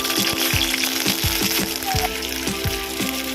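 Chopped onion pieces fry in a spoonful of ghee in a kadai, giving a dense, loud, continuous sizzle with rhythmic scraping thumps of stirring underneath.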